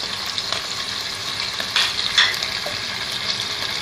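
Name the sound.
800 grams of chicken frying in a pan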